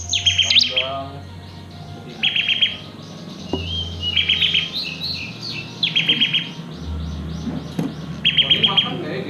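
A rare captive-bred albino ciblek bird sings in a cage, repeating bright, rapid chirping bursts about every second or two, close and clear over a low background hum.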